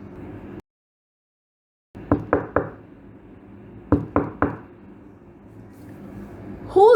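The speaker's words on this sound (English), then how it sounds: "Soon she came to a village and knocked at a cottage." Knocking on a wooden cottage door, two close, sharp sets of three quick raps separated by a short pause, with a voice starting right at the end.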